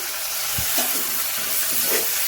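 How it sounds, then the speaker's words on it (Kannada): Fenugreek leaves with a little coriander frying in oil, giving a dense, continuous close sizzle with faint stirring movement underneath and no voices. "ಹಾಗೆಯೇ 1-2 ನಿಮಿಷ ಇದನ್ನು ಎಣ್ಣೆಯಲ್ಲಿ ಫ್ರೈ ಆಗೋದಕ್ಕೆ ಬಿಡಿ"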